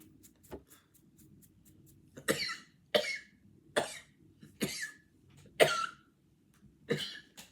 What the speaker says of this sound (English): I was trying so hard not to cough.